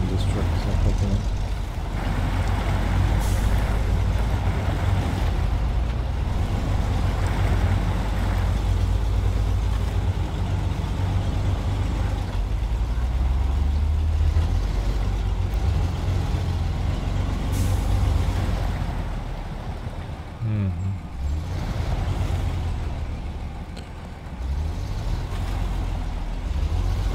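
A heavy truck with poor suspension driving off-road in the video game Snow Runner, a loud continuous low engine rumble with air-brake hisses and shifting growls, dipping briefly near the end.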